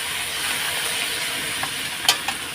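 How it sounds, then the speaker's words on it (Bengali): Small fish and taro stolons fry in a wok under a steady, close sizzle while being stirred. A couple of sharp utensil scrapes come near the end, and no one talks. "নাড়াচাড়া দিয়ে নিই"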